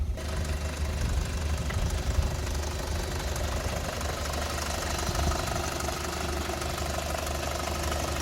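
Idling FSI engine of an Audi A3 8P, a steady low rumble with a slightly knocking, uneven texture, heard close and continuous without talk.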